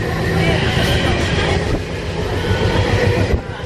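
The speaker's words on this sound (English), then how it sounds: "We're on the train." A Rocky Mountaineer passenger train rumbles steadily along the rails from inside a carriage, with faint clacking and squealing wheels under the continuous noise.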